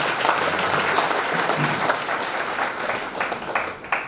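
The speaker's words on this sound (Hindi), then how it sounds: "जोर से ताली बजाइए अपने लिए।" An audience at a yoga camp program applauding, a steady dense round of clapping from many hands nearby that thins slightly toward the end.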